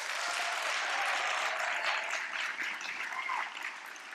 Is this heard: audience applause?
yes